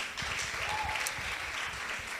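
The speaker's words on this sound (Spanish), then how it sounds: "Denle un aplauso fuerte al Señor." Church congregation applauding, a steady wash of clapping hands that fills the whole moment with no speech on top.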